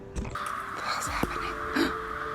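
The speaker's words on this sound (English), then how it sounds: "There is a bloody murder of crows." A large group of crows cawing among apple trees on an Eastern Canada road trip, harsh repeated caws scattered across the clip, fairly close, with a couple of sharp knocks and faint voices in the background.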